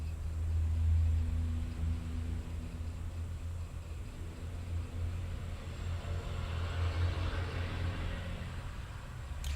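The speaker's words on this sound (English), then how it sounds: "The sound of the traffic outside is driving me nuts" Road traffic rumbles steadily outside, a low continuous drone with a vehicle swelling slightly louder and passing partway through, muffled and distant with no talk.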